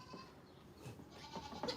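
A goat bleats on a farm, a few wavering cries in quick succession, fairly close and clear over faint background noise with no talk.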